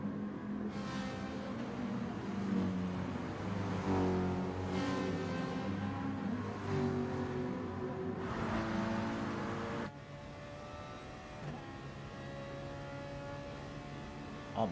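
Gr3 race car in a racing video game at the Red Bull Ring, engine note rising and falling through revs, then dropping sharply as it downshifts all the way into first gear, loud and continuous.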